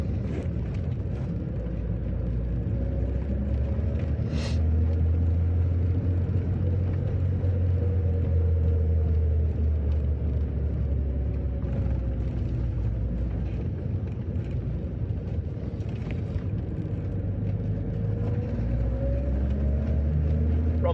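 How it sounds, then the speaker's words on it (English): A 1987 BMW 325is with a single-overhead-cam straight-six engine rumbles steadily while driving, a continuous low drone heard from inside the car with no talking. "I like the noise. Single overhead cam, straight six, man."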